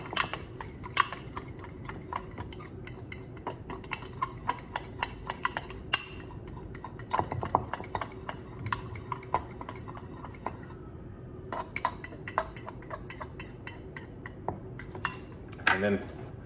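Seasoning mixed in a bowl gives rapid, irregular clinks and light scrapes of a utensil against the dish, fairly quiet and continuous, with a few sharper knocks.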